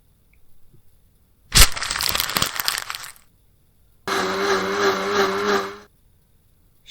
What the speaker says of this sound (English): She puts fruit in the blender.